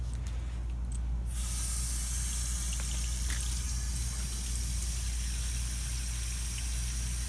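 Running water rinses gel off the roots of a coleus plantlet during its transfer from in vitro culture to soil, heard as a steady close hiss of spray that starts after a second and holds to the end over a low hum.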